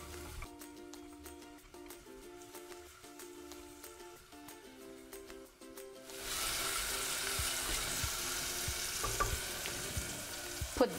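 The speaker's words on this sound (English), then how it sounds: "Then put the crushed garlic and the red chili. Stir and cook until the garlic is lightly brown." Crushed garlic and red chili sizzle in a hot pan while being stir-fried, a steady frying hiss that swells louder halfway through, with occasional stirring scrapes; no talk.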